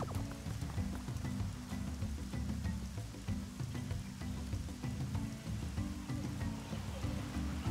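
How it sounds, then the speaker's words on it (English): Steady rain in a rainforest area of the Mario & Luigi Brothership video game, a dense, continuous wash of patter and drops with a low rumbling bed, even and unbroken throughout. "Oh, it's raining."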